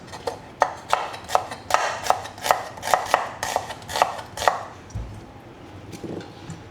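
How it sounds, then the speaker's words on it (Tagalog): A knife chops onion on a board in a quick, even run of about a dozen sharp close knocks, then stops and leaves only quiet room noise. "So ngayon guys, gayatin natin yung ating sibuyas."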